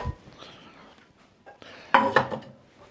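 A frying pan is handled among pots and pans in a home kitchen, giving a brief burst of clattering metal knocks and scrapes close by, with quieter rustling before it.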